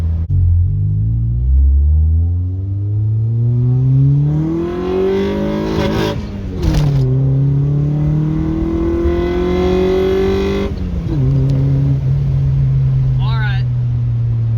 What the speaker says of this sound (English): We hit Vtec and we hit the limiter.